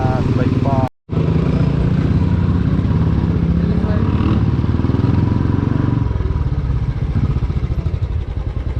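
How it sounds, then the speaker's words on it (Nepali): A motorcycle rides past in Nepal, its engine droning loudly and steadily close by for several seconds before easing slightly, with a brief dropout near the start and voices talking over it. "ओहो, बाइक पास, बाइक पास।"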